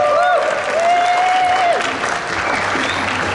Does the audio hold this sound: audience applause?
yes